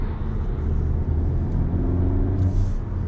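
A 2022 Cupra Formentor VZ driving in sport mode, its engine giving a steady, loud low rumble from inside the cabin with a slight swell toward the end, no talking.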